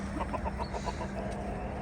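Four backyard hens let out to roam freely for the first time, a quick run of soft, close clucks pulsing in a short rhythmic burst over steady outdoor background noise.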